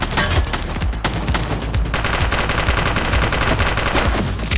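Dense rapid gunfire in the police video game The Precinct, loud automatic bursts and overlapping shots crackling continuously with no pause.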